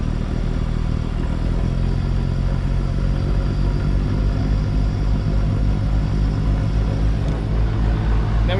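A sailboat's engine revs up to set the anchor, a steady loud low rumble of the motor running at raised speed, continuous throughout with some clatter and no talk.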